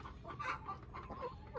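Backyard chickens, including a Rhode Island Red rooster, give soft, quiet clucks in short, close bursts with no one talking.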